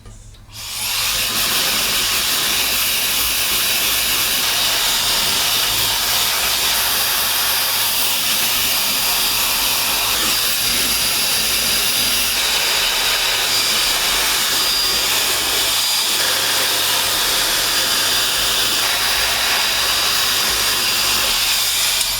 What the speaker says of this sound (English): I'm still very impressed with this hair dryer